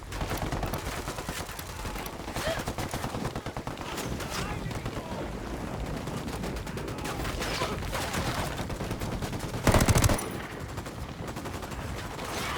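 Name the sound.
gunfire in the video game Ghost Recon Wildlands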